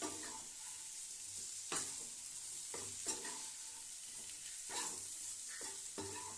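A plantain and potato roast with chili powder is stirred in a pan with a soft, low sizzle underneath and a spatula scraping and tapping at a slow, uneven rhythm, quiet and close, with no voices.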